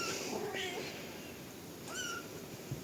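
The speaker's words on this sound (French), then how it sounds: "Alors là, Mimine, elle appelle ses chatons." A mother cat meows to call her kittens, giving a few soft, drawn-out meows, two close together early and another a moment later, faint against low background noise.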